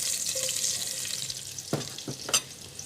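Onions going into hot oil for a Kerala dish. A close, bright frying hiss is followed by a few clattering stirs and one sharp sizzling burst near the end.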